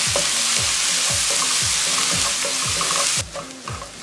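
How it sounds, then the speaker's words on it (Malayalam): A tablespoon of ginger garlic paste sautés in a pan for a chicken roast, a loud, dense sizzle with rhythmic spatula strokes about twice a second that quieten near the end. "1 tbsp ഇഞ്ചി വെളുത്തുള്ളി പേസ്റ്റ്, ഇതിൻ്റെ ഒരു പച്ചക്കൊത്ത് മാറുന്നവരെ ഒന്ന് വഴറ്റി കൊടുക്കുക."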